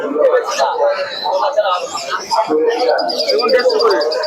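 Pigeons at the Krishnanagar bird market in Nadia coo and chirp steadily throughout, mixed into loud crowd chatter and vendors' voices close by.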